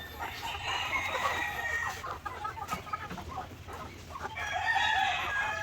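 Barred Rock and Rhode Island Red cross chickens in a breeding pen crow and cluck steadily, several birds calling close by with overlapping voices throughout.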